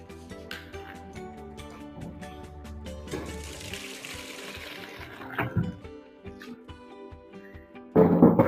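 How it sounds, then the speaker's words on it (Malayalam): Homemade grape wine, strained after 21 days of fermenting, is poured in one go into a vessel as a steady liquid stream beneath background music, ending in a louder splash near the end. "ഒരു പാത്രത്തിലോട്ട് ഇത് മൊത്തമായിട്ട് ഞാനിങ്ങനെ ഒഴിക്കാനായിട്ട് പോവാണ്."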